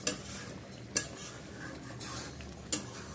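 A spoon scraping and stirring spicy chicken leg masala as it sautés in a pan, with a faint steady sizzle and three sharp metallic clinks spaced irregularly, fairly quiet and without talk.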